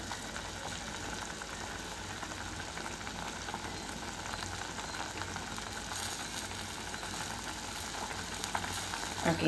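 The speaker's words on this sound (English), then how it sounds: "now it's starting to boil from the middle" Elephant yam gravy (senai kuzhambu) simmers in a pot, a steady close bubbling and sizzling hiss that holds level throughout with no talk.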